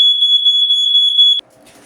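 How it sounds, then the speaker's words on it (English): A kitchen smoke alarm sounds while cooking on a stovetop burner, giving one loud, steady, piercing high beep that holds for over a second and then cuts off, leaving faint room noise. "Nothing like the fire alarm or smoke alarm going off when you're cooking."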